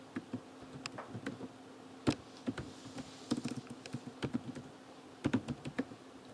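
Code being typed on a computer keyboard, irregular bursts of close, light key clicks with short pauses between, fairly quiet and without speech.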